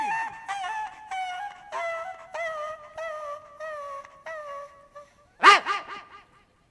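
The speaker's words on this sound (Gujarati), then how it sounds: "ક્યાંનો છે આ કુતરો" A dog gives a steady run of high, whining yelps and barks, close and fairly loud, ending in a sharper, louder bark followed by a few quick yips.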